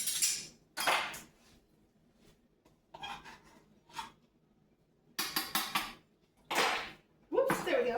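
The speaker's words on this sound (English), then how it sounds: "Let me find my trusty teaspoon." Metal cutlery clattering and scraping in bursts as someone rummages through utensils for a teaspoon, with quiet pauses between the rattles.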